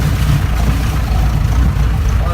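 A 1969 Mahindra Jeep with its original gearbox has its engine running, a loud, steady low rumble close up with no break.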